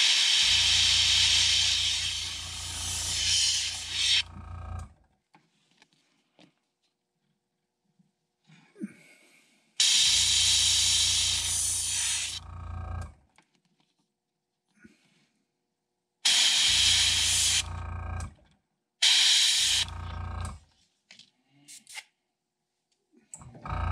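Airbrush bursts spraying black splatter paint onto a crankbait lure, four loud hissing blasts of a few seconds each separated by silent pauses.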